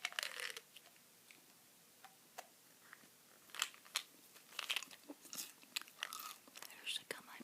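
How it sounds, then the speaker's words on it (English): Chewing Bazooka sugar-free bubble gum close to the mouth, with soft wet clicks and crunchy snaps in an irregular rhythm, quiet and intimate. "here's the gum I'm chewing today"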